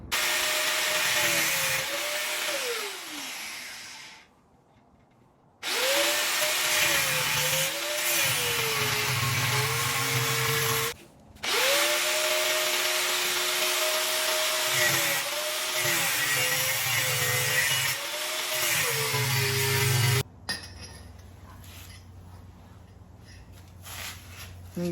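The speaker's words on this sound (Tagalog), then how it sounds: "So kakatin ko lang itong bakal, so naangkop doon sa sukat nya." A power tool cuts through a steel flat bar during a garage door repair, giving three long, loud whining bursts with shifting pitch, separated by brief pauses, then quieter clatter at the end.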